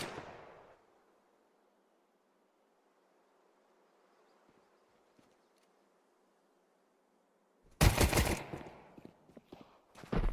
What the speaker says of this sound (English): Hades with this Glock closes that gap